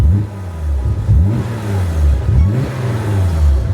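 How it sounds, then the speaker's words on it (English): A Nissan 300ZX engine is revved with quick throttle blips while being prepped for tuning, giving a loud, close sequence of about four rising and falling surges over a steady idle. "I'm gonna blip the throttle"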